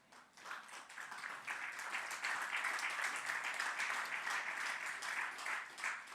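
A church congregation applauds during a sermon, a broad, even wash of many hands clapping that swells after the first second and holds steady throughout.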